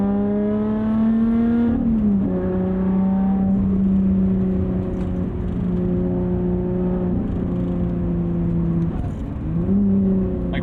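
A 2020 Lotus Evora GT engine idles loudly and steadily, its tone dipping briefly around each throttle blip that brings little rise in revs, the drone continuous throughout with no talking.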